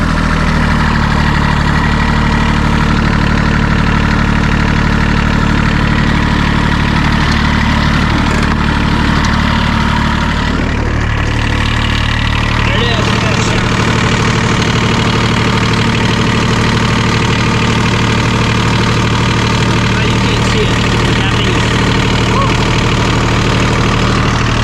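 A Kubota GR2110 riding mower engine, a diesel block shared with a BX tractor, runs steadily at idle with a low, even drone and rattle, close and continuous throughout, and its pitch drops slightly partway through.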